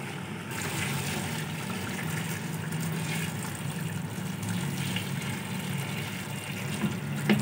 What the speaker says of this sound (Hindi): तकरीबन 3 लीटर पानी इसमें गया है, गर्म पानी।